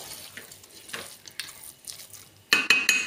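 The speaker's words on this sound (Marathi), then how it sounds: "आता गूळ आणि बडीशेप सूपची पावडर आहे ना ती मस्त ह्या लापशीमध्ये मिक्स करून घ्यायची" Jaggery and fennel powder are stirred into wheat porridge in a pot; soft scraping and stirring strokes are followed by a few sharp metal clinks of a spoon against the pan.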